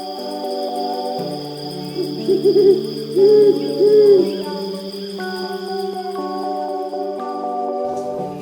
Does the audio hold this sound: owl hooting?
yes